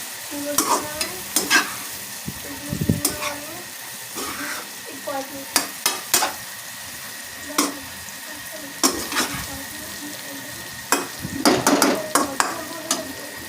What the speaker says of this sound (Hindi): अब इसमें भिंडी मिक्स कर दें। इसे अच्छी तरह मिक्स कर लें।